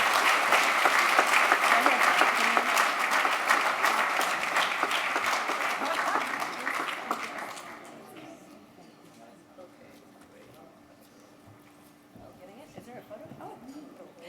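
Audience applause at an anniversary charity gala, a dense, loud wash of clapping for about eight seconds that then fades to scattered claps and quieter room noise.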